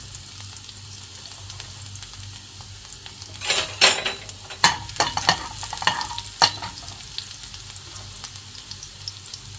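Ginger and garlic sizzle in hot canola oil in a pan, with a steady soft frying hiss and several sharp clinks and scrapes of a spoon stirring against the pan.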